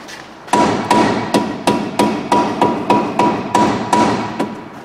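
A hammer strikes a worn Vauxhall Astra H track control arm's ball joint into place with about ten sharp, evenly spaced metallic blows, loud and close with no talk.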